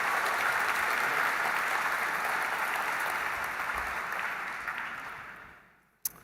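Sustained audience applause at an opening evening concert event, a dense steady roar of clapping that gradually fades out over several seconds before a final sharp knock.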